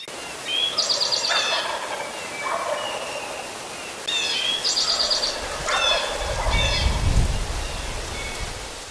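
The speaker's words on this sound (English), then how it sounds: "Just 1 bird gobbling this morning in there." A wild turkey gobbles several times at a distance, rattling calls repeated over a quiet outdoor background, with a low thump near the end.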